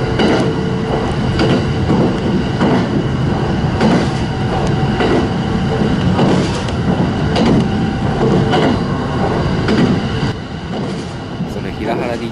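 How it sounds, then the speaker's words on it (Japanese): Steady rumble of an early-morning first passenger train running on rails between Nagano and Karuizawa, Japan, with rhythmic clacking of wheels over joints and a slight drop in level near the end. "乗っているのは長野を5時25分に出てくる始発の列車。"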